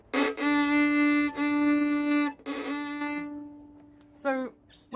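A violin bowed at the heel of the bow gives several sustained, strongly harmonic notes with scratchy, crunchy attacks at each bow change, close and clear in a quiet room.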